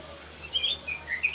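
Small birds kept together in an aviary cage, including a cucak ranting, chirp in short, faint, high tweets that come in a few scattered bursts over a quiet background.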